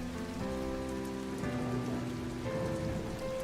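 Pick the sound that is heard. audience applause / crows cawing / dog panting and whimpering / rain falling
rain falling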